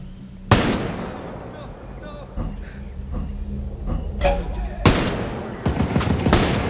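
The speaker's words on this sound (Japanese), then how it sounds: "撃ってきましたね" An automatic turret fires in the shooter video game Ghost Recon Breakpoint. Sharp bursts of gunfire crack out at intervals between quieter clicks and thuds, with a voice speaking.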